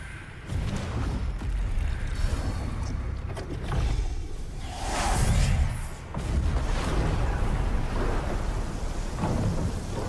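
Thunder rumbles over steady rain in a video game trailer scene, with a loud rolling crack building near the middle and heavy rainfall continuing throughout without talk.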